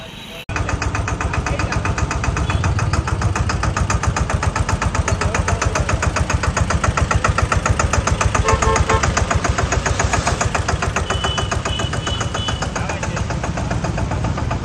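A diesel tractor engine idles steadily and close by, its rapid, even chugging running through the whole stretch at a constant level, with possible voices faintly in the mix.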